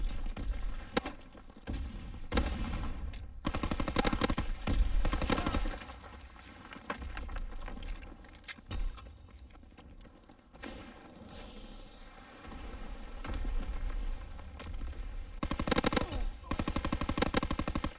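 Gunfire in the World War II shooter game Call of Duty WW2: repeated machine-gun bursts and single shots in irregular clusters, sharp and fairly close against quieter game ambience.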